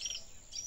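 A bigodinho songbird near a trap gives two short high chirps, faint and a little distant, with nobody talking.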